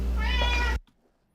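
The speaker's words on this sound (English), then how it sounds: "that's a loud meow" A hungry cat gives one loud, close, drawn-out meow that cuts off abruptly into silence.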